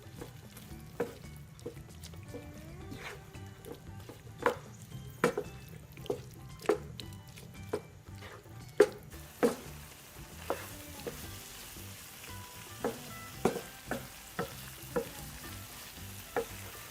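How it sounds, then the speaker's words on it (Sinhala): Pasta and chicken are stirred in a frying pan, with a steady sizzle and repeated sharp scrapes and taps of the utensil against the pan, close and clear, without speech. "පැස්ටා ටික එකතු කරලා හොඳින් කලවම් කරගන්න."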